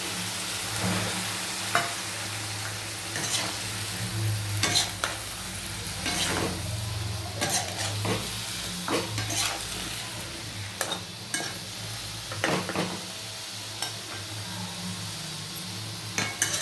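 Spice paste frying in a pan with a constant sizzle, punctuated by intermittent spatula scrapes and light clinks against the metal, close by.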